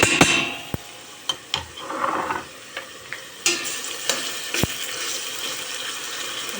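Pepper paste sizzles and fries with sautéed onions in a pot, a steady soft crackle broken by sharp spoon clinks and stirring scrapes, heard close with no talking.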